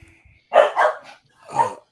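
Dogs bark loudly at close range: two quick barks in succession, a short pause, then a third bark, with nothing else in the background.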